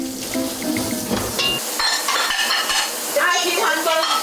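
Dishes, pots and cutlery clatter loudly and briskly in a home kitchen during cleanup after cooking, with sharp repeated knocks and scraping, close and busy throughout.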